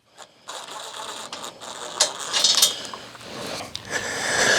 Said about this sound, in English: Now I need to take the bolts out holding these arms.